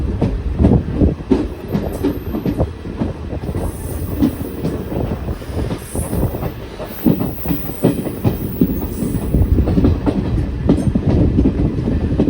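A Madurai–Coimbatore Intercity unreserved express on a Southern Railway rake, running via Palani and Pollachi, rumbles loudly and steadily with rhythmic wheel clatter and occasional squeal, heard from on board with no voices.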